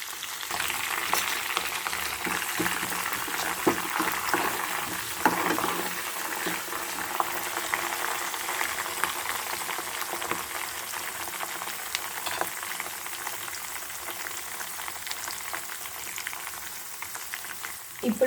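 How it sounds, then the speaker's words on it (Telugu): Curry leaves dropped into hot oil with fried mustard seeds, urad dal, chana dal and green chillies, tempering for amla rice, give a steady loud sizzle and crackle with occasional stirring clinks, continuous throughout. "ఇప్పుడు కరివేపాకు వేస్తున్నాం."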